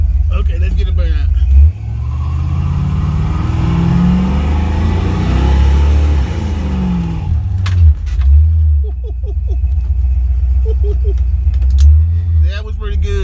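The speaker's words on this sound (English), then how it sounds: "Okay, let's get a burnout." A Ford Mustang Fox Body holds a burnout, its engine roaring loud and steady up close for several seconds, then rumbling down while someone talks over it.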